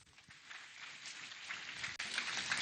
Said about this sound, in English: If you are Nigerian and you know the importance of reputation, another round of applause.